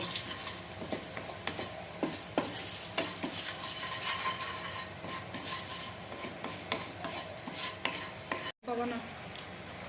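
Turmeric and Kashmiri red chilli powder stirred in a hot pan, close rasping scrapes of the spoon over a steady sizzle, with a brief dropout near the end and no speech.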